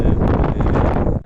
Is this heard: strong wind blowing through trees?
yes